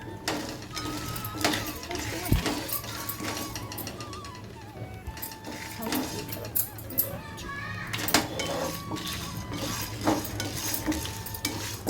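Urad dal and red chillies dry roasted in a pan for sesame thogayal, with busy scraping and rattling of a spatula stirring the dry lentils against metal and occasional clinks, close and continuous, with a voice talking at times.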